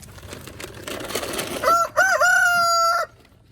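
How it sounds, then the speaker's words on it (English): A rooster crows loudly in a drawn-out call over a background of clucking chickens scratching at feed, the crow rising partway through and holding steady until it cuts off. "we're gonna go look at the chickens."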